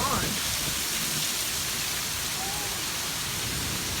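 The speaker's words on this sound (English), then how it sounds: "I would have been trapped out in this rain" Heavy storm rain pours onto a flooded street in a dense, steady hiss that stays loud and unbroken throughout.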